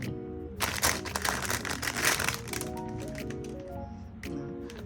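Crinkling plastic packaging as a package of stretch fabric yarn is opened, a burst of loud rustling that settles into softer handling noises, with someone speaking quietly.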